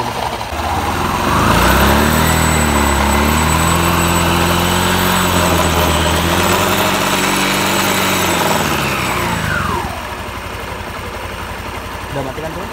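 A motor scooter engine runs right after a CVT belt service, a close, steady droning rev that swells in pitch and holds before dropping away as the throttle is released near the end.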